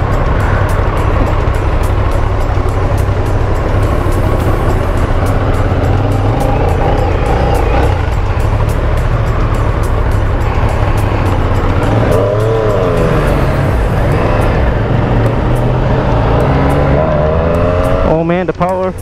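A Triumph Street Triple motorcycle engine roars loud and close while riding, with revs rising and falling through gear changes over steady wind rush, ending in a quick revving burst.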